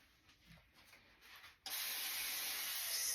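A spray bottle misting hair during a face-framing layered haircut, first quiet rubbing, then a sudden loud continuous hiss of spray that lasts about a second and a half, close and without talk.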